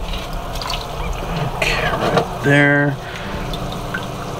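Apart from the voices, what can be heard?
water being poured into a hexagon fish tank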